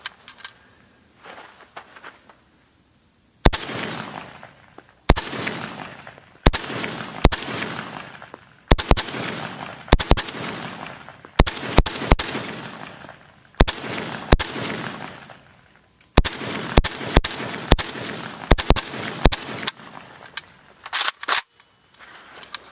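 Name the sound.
AK-47 rifle gunfire at the range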